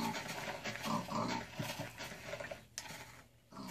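A pig in the Minecraft video game giving short, faint grunting oinks in a quick cluster, followed by quieter game ambience.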